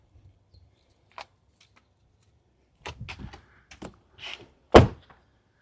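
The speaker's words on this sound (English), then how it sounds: "so let's close the door" A Tesla Model Y Juniper door shuts with a single solid, close thunk, preceded by faint clicks and rustling handling noises in a quiet space.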